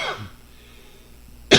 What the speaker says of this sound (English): I'm having a bit of a cough